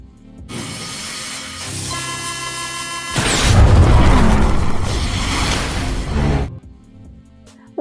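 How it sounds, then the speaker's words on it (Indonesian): Habitat module blowing apart from a gas leak in the Mars survival film The Martian: a loud, sustained roaring blast with a deep rumbling burst that swells mid-way and fades into quieter music-backed aftermath. "Watney, di mana secara tak sengaja tiba-tiba HEP-nya mengalami kebocoran gas hingga membuat HEP-nya meledak."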